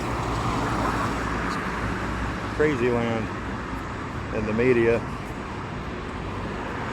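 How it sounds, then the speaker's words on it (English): Steady road traffic rumble from passing cars and trucks fills the background throughout, with someone talking briefly over it. "I'm gonna get away from this traffic noise."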